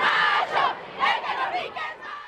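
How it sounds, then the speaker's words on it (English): A large crowd of women chants together at a protest against violence toward women at the Benito Juarez Monument, loud rhythmic shouted phrases rising and falling in waves. "They met at the Benito Juarez Monument, where they chanted to end all forms of violence against women"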